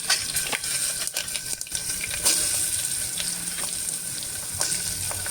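Steady sizzling of ivy gourd frying in a hot oil tempering with turmeric, with a few sharp crackles and clinks of a utensil against the pan, close and continuous, no voices.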